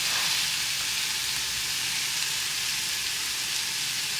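A potato and egg bake mixture sizzles steadily in a pan on the stove, a constant close frying hiss with no talking.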